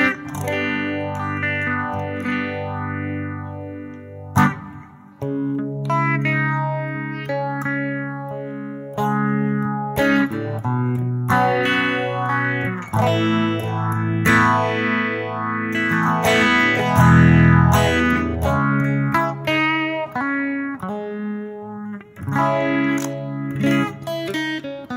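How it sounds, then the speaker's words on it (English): A guitar runs through the phaser effect of a Zoom G1X On multi-effects unit, playing sustained chords and melodic lines with a sweeping, swirling modulation, loud and close throughout with no talking. "phaser sound"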